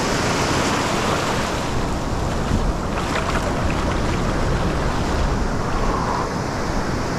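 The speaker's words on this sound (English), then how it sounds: "Beautiful day at the beach." Ocean surf on a beach during a surf-fishing outing for red drum, a steady broadband wash of waves with wind buffeting the microphone, continuous and fairly loud with no talking.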